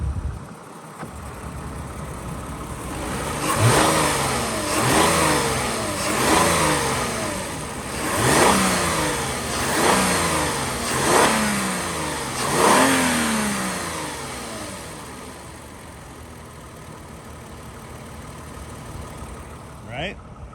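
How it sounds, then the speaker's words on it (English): A 2010 Toyota Avalon Limited engine is revved about seven times in a steady rhythm, each rise and fall clear and close, before settling back to a smooth idle. "I'm gonna rev it up for you here."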